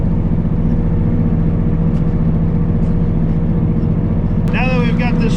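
An old tractor's engine runs steadily while the machine steers itself, a continuous low rumble throughout, with a brief higher-pitched sound near the end.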